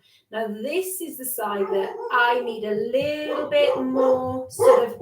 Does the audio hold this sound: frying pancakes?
no